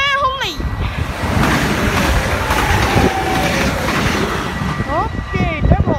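A train passes through Roermond at rush hour as a steady broad rumble, with tonal squeals and whistle-like sweeps rising near the start and end and brief voices mixed in.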